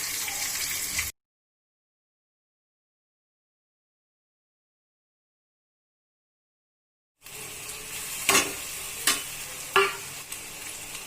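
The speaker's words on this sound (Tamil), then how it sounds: "அது ஒரு பச்சை மிளகாயோட சேர்த்து இந்த எண்ணெயிலே போகுது" Crushed ginger and garlic with green chili hit hot oil for a crab soup, giving a soft sizzle, then a silent gap before frying resumes with a few sharp stirring scrapes, no talk.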